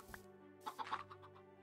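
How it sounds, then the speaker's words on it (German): Chickens clucking in the Minecraft video game near a Christmas tree, a short cluster of faint, quiet clucks over a low steady background hum. "Das mit den Hühnern nervt aber hier am Weihnachtsbaum."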